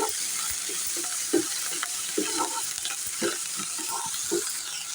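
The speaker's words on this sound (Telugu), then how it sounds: "ఇప్పుడు కరివేపాకు వేస్తున్నాను" Curry leaves and onions crackle in hot oil in a pan, a steady close sizzle broken by light stirring scrapes and small pops.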